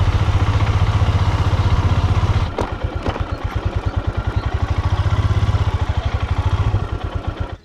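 A parked motorcycle's engine idles nearby on a riverbank near the Ganga, with a loud steady drone at first, then a rapid, even chugging pulse that continues to the end.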